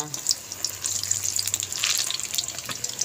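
Banana cue fries in a pan with a soft, steady sizzle and hiss. A low hum runs under it in the first half, and faint bubbling pops come and go near the cook.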